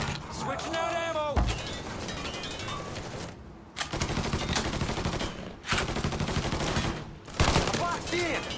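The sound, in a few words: gunfire in the video game Mafia 3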